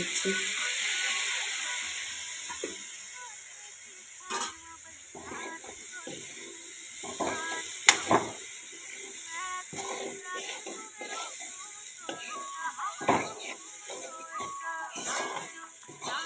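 Soaking water poured into a pan of sautéed onion, garlic and ginger for a raw banana curry gives a steady hiss and sizzle, broken by scattered clinks and scrapes, with a voice talking now and then.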